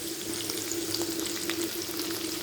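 Tempering seeds, green chili, onion, garlic, carrot and capsicum frying in hot oil for mango dal: a continuous close sizzle with crackly spits over a low steady hum, no voices.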